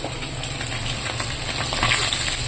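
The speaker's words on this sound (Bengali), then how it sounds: "ভাজছি এখন বেশি করে ভেজে রাখছি" Fish frying in hot oil in a home kitchen, giving a steady, close hiss and sizzle with faint crackles throughout, no voices over it.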